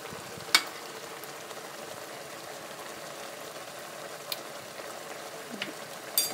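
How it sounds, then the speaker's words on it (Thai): Mushrooms stir-fry in oyster sauce in a pan, a soft steady sizzle under occasional sharp scrapes and taps of the utensil against the pan. "ก็ผัดต่ออีกนิดหน่อย"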